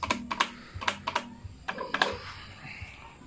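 Buttons pressed on a Zeus Pearl 1024B lighting controller, a series of sharp keyboard-like clicks in quick pairs and irregular bursts, close and fairly loud, with a faint hum underneath.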